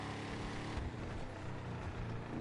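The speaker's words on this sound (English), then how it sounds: "There's maybe a slight kickback on the exhaust." Car engine and exhaust from a podium vehicle in GTA Online, a steady broadband drone with a slight kickback, close and continuous with no talk over it.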